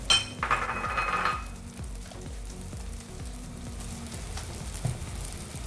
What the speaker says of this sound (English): The oil gets heated. Add in the onion.